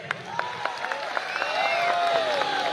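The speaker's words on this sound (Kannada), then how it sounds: "ಒಂದು ದೊಡ್ಡ ಚಪ್ಪಾಳೆ ಈ ಹುಡುಗನಿಗೆ." A crowd at a film event breaks into applause, the clapping swelling from scattered claps to a steady roar while a faint whistle-like tone drifts over it.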